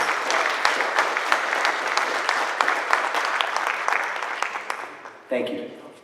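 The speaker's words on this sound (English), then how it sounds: "can we give all of our CTE winners a big round of applause?" Audience applause for career and technical education (CTE) award winners at a school board meeting, a steady wash of many hands clapping that thins near the end, then a brief louder burst as it tails off.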